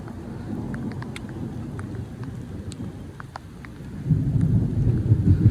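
Thunder rumbles low and close during a rainstorm, swelling louder near the end, with steady rain and scattered drops pattering throughout.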